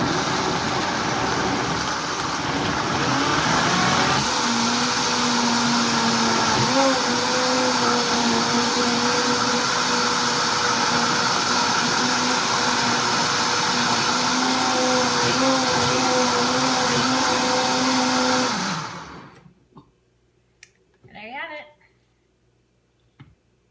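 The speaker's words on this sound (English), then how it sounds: "Blend this up real fast. Watch how the Vitamix works." A Vitamix blender whirs loudly and continuously for nearly twenty seconds, its pitch shifting slightly as the contents churn, then cuts off, followed by a few brief knocks and a short voice.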